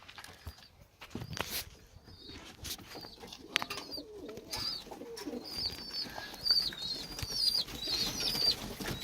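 Tumbler pigeons in a crowded coop give quiet coos and soft rustling, with light shuffling movements, growing slightly busier toward the end, with thin high chirps joining in.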